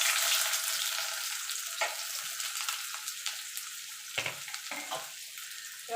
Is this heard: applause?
no